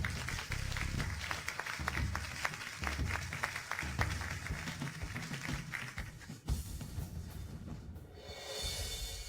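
Applause at a press conference for a project launch. Dense, busy clapping runs steadily for several seconds, then shifts sharply to a lower, rumbling ambience.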